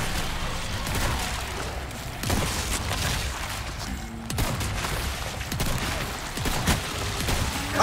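Repeated gunshots and heavy blasts in Resident Evil 4 Remake, loud dense firing with crashes layered over a steady rumbling background, punctuated by sharper bursts every second or two.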